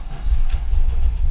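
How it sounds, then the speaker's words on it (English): Air-cooled 1800 engine in a 1974 VW Bay Window Bus cranking over from cold: a steady low rumble with a brief higher burst midway, close and fairly loud. "VW 1800, air-cooled, cold start."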